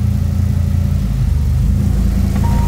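Audi RS6 engine droning and revving at idle as drive gear is engaged, a loud, close, steady low rumble with slight rises in pitch, heard alone.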